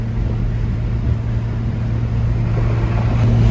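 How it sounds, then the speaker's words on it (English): A golf cart cruising on an interstate at 70 mph with the windows down, giving a steady, loud roar of motor hum and rushing wind noise that holds constant throughout, with no voices. "right now we are cruising on the interstate going 70."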